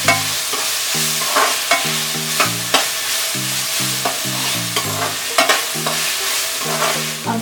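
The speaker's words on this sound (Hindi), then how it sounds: "अब हम डालेंगे जिंजर गार्लिक पेस्ट, इसको थोड़ा सौटे कर ले।" Ginger garlic paste sautéing with browned onions for a chicken curry, a steady sizzle with repeated stirring scrapes and light clinks throughout, alone and close, while a tonal hum pulses underneath.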